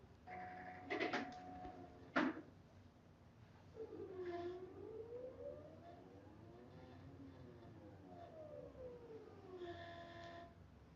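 A computerized quilting machine stitches across a quilt, its motor whining in rising and falling sweeps, with a few sharp clicks and clunks at the start and a voice faintly audible.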